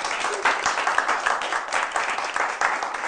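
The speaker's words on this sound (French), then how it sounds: "Applaudissements pour toute l'équipe" A crowd at a live stage performance in Côte d'Ivoire applauds a television team, a continuous spread of clapping with a few sharper claps standing out, fairly close and steady throughout.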